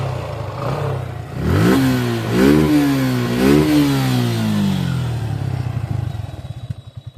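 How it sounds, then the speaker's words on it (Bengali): A Suzuki FI ABS motorcycle engine starts up and revs in several rising bursts before settling into a loud, steady idle nearby, with no voices over it. "পাচ্ছেন বাইকের সাউন্ড কিন্তু একদম শোরুম কন্ডিশনের যে সাউন্ড সেই সাউন্ডটাই রয়েছে"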